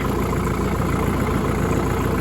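A John Deere 2640 tractor engine idles with a steady, low rumble, even and unchanging throughout, with no voices.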